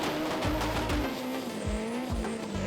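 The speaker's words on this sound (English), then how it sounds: "That controlled burnout and this planned half pass should be enough to tick off those requirements." A drag racing doorslammer car holds a controlled burnout at Santa Pod, its engine revving loud and steady in rhythmic pulses over continuous tire squeal.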